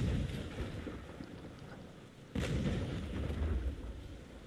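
Heavy cannon fire in a naval battle in the video game Naval Action, with dense low booming and rumble throughout and a sharp louder blast near the middle, without speech.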